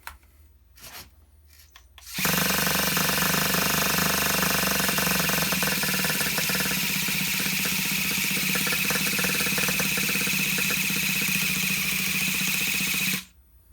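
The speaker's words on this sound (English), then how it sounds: "the battery on the Easy Start sounds like it's getting kind of weak" Vintage Traxxas Rustler nitro engine turned over by an EZ-Start electric starter: after a couple of brief bursts, a loud, steady buzzing crank runs about eleven seconds without the engine catching, then cuts off.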